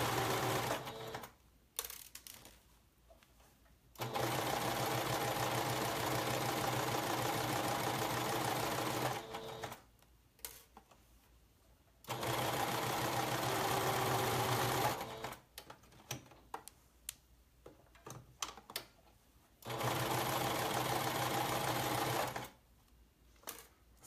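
Sewing machine stitching a pullover in several sustained bursts of fast, steady whirring, close and loud, separated by quiet pauses with light handling noises.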